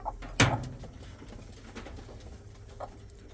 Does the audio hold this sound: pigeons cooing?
yes